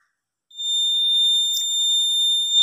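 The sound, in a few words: rain detector buzzer sounding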